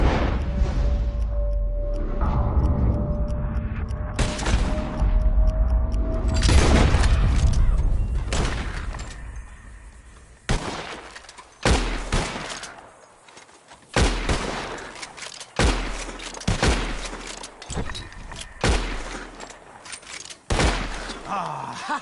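Gunfire in Red Dead Redemption 2 as players shoot at birds flying overhead, a loud rapid series of sharp bangs that thins into separate shots spaced apart.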